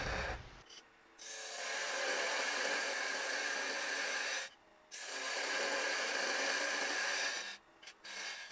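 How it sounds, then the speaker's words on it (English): A parting tool cuts a tenon on an acacia vase spinning on a wood lathe, giving a steady, loud rasping hiss in two long passes separated by short pauses. "here I'm using my parting tool to make the tenon"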